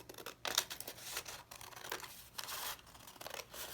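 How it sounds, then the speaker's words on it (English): Scissors snip through paper for a mini album craft, a series of crisp, close cuts in an irregular rhythm with small rustles between them and no talking. "But I'll go ahead and cut it with my scissors"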